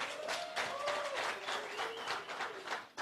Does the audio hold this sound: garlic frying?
no